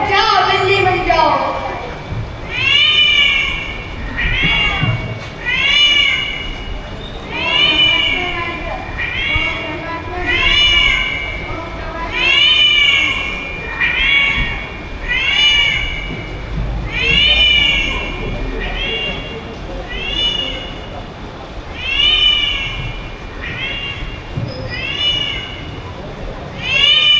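Repeated cat meows, loud and close, coming in a steady series of rising-falling cries over a background of children's speech and chatter.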